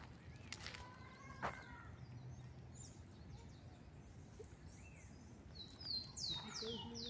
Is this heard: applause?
no